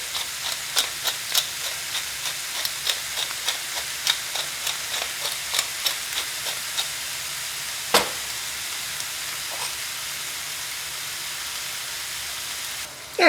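Onions and ground beef fry in a pan with a soft, steady sizzle and hiss, punctuated by a regular run of sharp ticking stirs or taps that thin out midway, with a louder clatter near the end.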